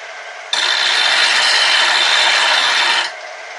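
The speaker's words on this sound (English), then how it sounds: "I'm going to grind just a little tiny hair off of" A grinder takes metal off a lawn mower blade in one continuous harsh, hissing grind of about two and a half seconds, close and loud, starting and stopping abruptly.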